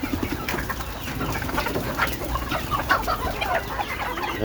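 Several chickens cluck and chatter nearby, overlapping calls coming in a continuous, busy flurry.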